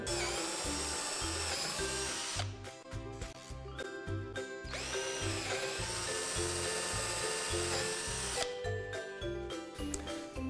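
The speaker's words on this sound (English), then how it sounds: "We're going to drill 4 holes into the corners of the window." A power drill whines in repeated bursts as it bores holes into the wooden wall of a dollhouse, stopping and starting with a rattling, grinding tone.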